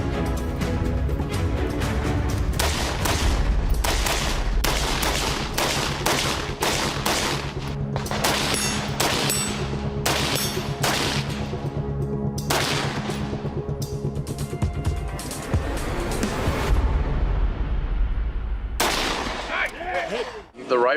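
Rapid rifle gunfire at a firearms competition, the rifle fitted with a Rage muzzle brake adapter, loud shots following one another in quick bursts for most of the stretch, with a short pause near the end before firing resumes.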